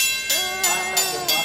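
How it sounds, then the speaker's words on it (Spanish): An old railway crossing bell at a train museum in Isabela, Puerto Rico, rings in steady repeated strokes, about four clangs with ringing overtones, fairly close. "Siguen tocando la campana"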